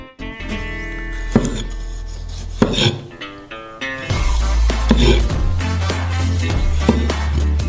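A knife cuts a tomato into small cubes on a board, giving soft repeated chopping taps and rubbing scrapes, close and fairly clear, with a faint musical background.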